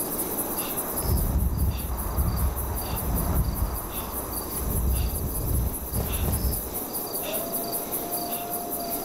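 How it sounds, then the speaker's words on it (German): Steady high cricket chirping fills a snowy night in the survival game Savage Lands, with pulsed trills repeating over gusty low wind and no voices. "Jetzt zirpen die Grillen auch noch."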